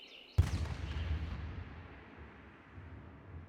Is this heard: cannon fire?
yes